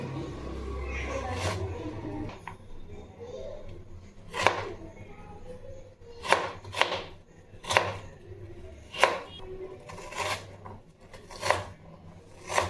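Peeled potatoes being cut with a knife, a series of sharp, irregular chops against a board, close and fairly loud, with faint background noise between strikes.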